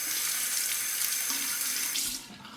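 A tap runs steadily into a sink while a razor is rinsed during a wet shave, a close, continuous splashing rush that eases off near the end.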